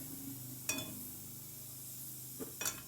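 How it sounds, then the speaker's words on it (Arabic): Chopped garlic fries softly in oil in a pan, giving a faint, steady sizzle broken by a few brief clinks and scrapes of stirring, with no talking. "غنخليو هاد الثومه حتى تقلى واحد شويه"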